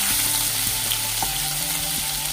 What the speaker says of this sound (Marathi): आलं अगोदर थोडंसं चांगलं परतून घ्यायचं